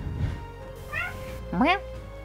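A cat gives two short rising meows close by, the second louder and longer, over a low background hum.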